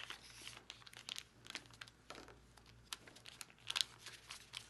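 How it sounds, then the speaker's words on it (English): Sheets of origami paper being folded along creases, giving soft, close crinkles and papery rustles in short irregular bursts, with one sharper crisp crackle near the end, quiet overall. "So let's fold on this crease. and fold back down on this crease."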